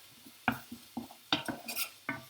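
A spoon stirring black bean taco filling in a pan: about eight distinct clinks and scrapes of metal against the pan at an uneven, unhurried rhythm, close and fairly quiet.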